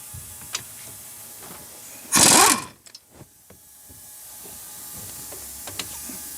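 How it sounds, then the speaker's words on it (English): Removing the 21 mm caliper bracket mounting bolts on a Chevy Cruze front brake: one short, loud hissing tool burst, followed by a few light mechanical clicks and taps in a quiet driveway. "Now we can remove the two caliper bracket mounting bolts."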